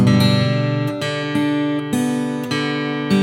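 An acoustic guitar plays a short chord melody of "Silent Night", each chord plucked clearly and left to ring, close and unaccompanied.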